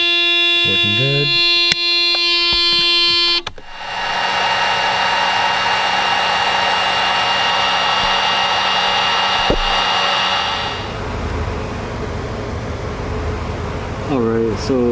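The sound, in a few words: Mercedes door-open warning buzzer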